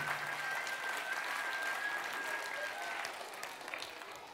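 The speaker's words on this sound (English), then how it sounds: "Give yourselves a big clap." A children's audience at a magic show claps steadily throughout, a dense wash of hand claps with a faint whistle-like tone running through the first few seconds, tapering slightly toward the end.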